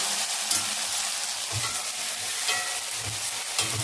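Ginger garlic paste frying and being stirred in a pan, a steady sizzle with occasional scraping thuds of a spoon, close and without talk.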